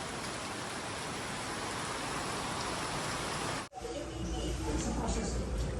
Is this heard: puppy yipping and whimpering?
no